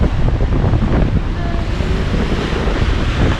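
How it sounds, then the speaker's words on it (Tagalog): Rough sea waves churn and boil against a pier, a steady loud wash of surf mixed with gusty wind rumble on the microphone, with no voices. "Kumukulo yung dagat."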